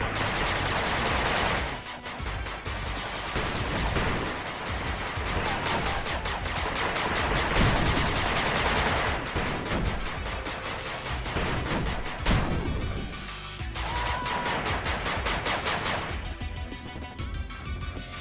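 Dense, continuous bursts of machine-gun fire and explosions pour out as a turret comes under attack in the retro-styled strategy game 8-Bit Armies, loud and busy with only brief lulls.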